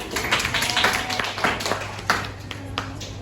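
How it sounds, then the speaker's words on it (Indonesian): A classroom of students claps in a short, scattered round, the claps uneven and fairly close, with faint murmuring voices underneath. "Tepuk tangan dulu."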